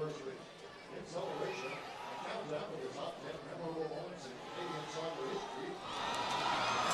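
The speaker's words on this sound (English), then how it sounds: "Another golden opportunity for the Canadian team, appreciated by the crowd here, but Sinclair that close to getting her 134t" Spectators at a Canada versus China women's international football match cheer and roar, a steady crowd wash swelling near the end, under a commentator's continuous play-by-play.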